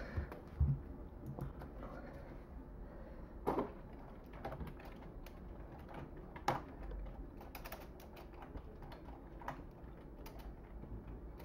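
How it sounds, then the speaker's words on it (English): Number keys tapped on a PC keyboard, soft scattered clicks at irregular intervals with a few slightly louder presses, quiet and close with no voices. "type this number on the program on PC"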